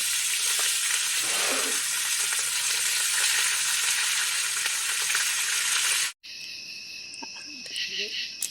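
Fresh-caught fish sizzles steadily in a frying pan at an outdoor festival, a dense continuous crackle for about six seconds before cutting out, followed by quieter background with insect-like chirping and a faint voice.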